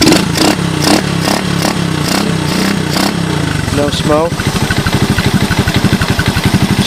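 A scrap-yard Honda TRX125 ATV engine revs at first and then settles into a steady rhythmic idle close by, with someone speaking briefly.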